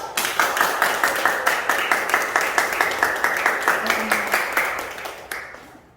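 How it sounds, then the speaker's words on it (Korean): An indoor audience at a liver detox program event claps to welcome a speaker, a fairly synchronized rhythmic clapping at a brisk pace that fades out near the end. "박수로 모시겠습니다"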